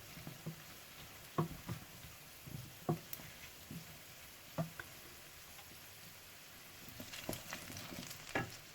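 Mince and chunky vegetables frying in a pan, a soft steady sizzle with intermittent clinks and stirring scrapes, fairly quiet and with no one speaking.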